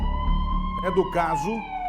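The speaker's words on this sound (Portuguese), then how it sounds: "me dá sirene" A siren sound effect plays on a TV news show, a loud wailing tone that rises and falls, with a voice heard speaking over it.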